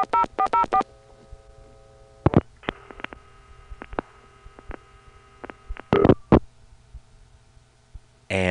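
Telephone line test on 1986 payphone equipment in Atlanta: bursts of DTMF dialing tones, then a call connecting with ringing and line clicks, a brief pickup and hang-up, ending in a loud tone burst.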